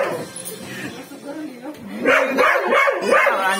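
A dog named Jack barks and yips in quick bursts close by, mixed with excited people talking over it.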